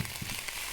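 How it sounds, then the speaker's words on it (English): Ginger garlic paste sizzling in a hot pan while Indian food is cooked, a steady soft hissing crackle with faint pops, fairly quiet and continuous. "That's what you want to hear, that sizzle"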